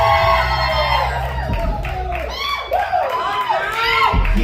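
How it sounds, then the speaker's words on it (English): Live comedy show audience at Madison Live in Newport, Kentucky screaming, whooping and cheering loudly throughout, a dense crowd roar with individual yells rising above it. "My friends, I need you to scream for Johnny Disco"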